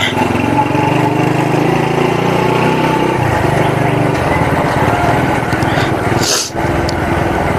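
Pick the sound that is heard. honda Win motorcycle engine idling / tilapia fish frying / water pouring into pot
honda Win motorcycle engine idling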